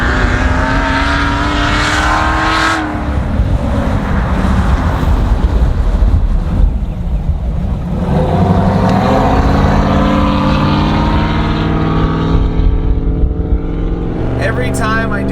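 Supercharged 2020 Chevrolet Silverado Hennessey Goliath 800 truck with Brembo brakes accelerates hard, its engine note rising and shifting through gears with heavy wind rush, then drops as the truck slows, while people talk excitedly inside the cab.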